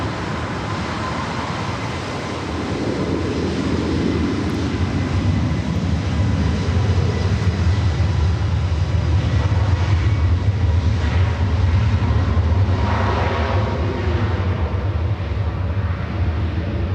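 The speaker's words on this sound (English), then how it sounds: "Also have Hawaiian flight 9 heading up for a north side takeoff." Hawaiian Airlines jet taking off from the north side at LAX, a loud, broad jet engine roar that swells and holds steady, with a deep low rumble and heavy airport background noise.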